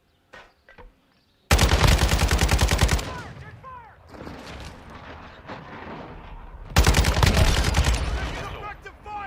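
An RPK machine gun firing incendiary rounds in Call of Duty: Modern Warfare II, two loud sustained bursts of rapid automatic fire with a rumbling in-game battle din between them, after a couple of sharp isolated shots at the start.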